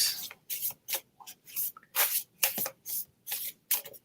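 Playing cards riffle-shuffled again and again, about nine crisp bursts in a steady rhythm, close and fairly loud with brief pauses between them and no talk.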